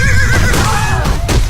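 A horse whinnies loudly and close, a shrill wavering neigh that trails off, followed by faint clopping noises as a sound effect.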